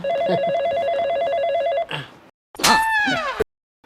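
A telephone rings electronically in a steady warbling pattern for nearly two seconds, then a brief gap before a sweeping electronic tone and sudden silence.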